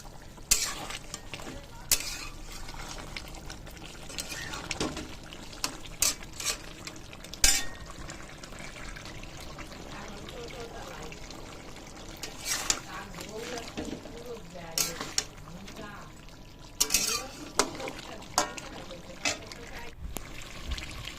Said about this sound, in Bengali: তো যতক্ষণ না ঝোলটা শুকিয়ে যায় ততক্ষণ আমি এটা কষতে থাকবো।